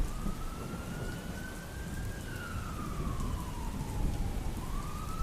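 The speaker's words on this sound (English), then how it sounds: "the ominous error message and the faint sound effects of police sirens in the background" A faint police siren sound effect from an Animal Crossing anti-piracy screen wails slowly, rising and then dipping, under a constant rain-like hiss that fills the background.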